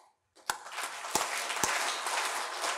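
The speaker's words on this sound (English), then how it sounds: "I request everyone to clap with me thrice" A reunion audience claps in unison three times, each sharp, loud clap followed by a spread of scattered clapping and crowd noise that carries on after the third beat.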